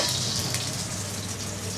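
Beef fat frying in a pan, a steady close crackling sizzle with fine spattering pops, heard alone without voices.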